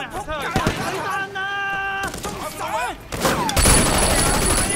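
Gunfire erupts in the video game Sleeping Dogs: several sharp shots crack out in bursts amid game sound effects and a tonal beep, with a dense clatter of rapid fire toward the end and a voice talking in between.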